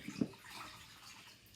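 Water from a wide blue cup holding two cups is poured out in a brief splashing gush, then a softer trickling wash fades away, close and moderately quiet.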